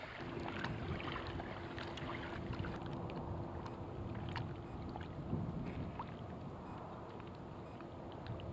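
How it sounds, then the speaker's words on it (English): A kayak is paddled across the Indian River Lagoon, a steady wash of water and breezy outdoor noise with faint rhythmic splashes, no voices. "I'm going to paddle out to Black Point"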